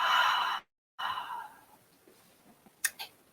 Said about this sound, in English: take one more deep breath in and exhale out